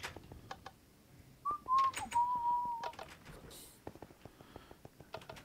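A man whistles a few notes of the Price is Right theme, a short bright melodic run mid-clip, heard over background clicks and small knocks from a live stream.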